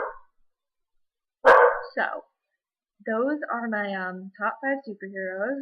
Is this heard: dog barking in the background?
yes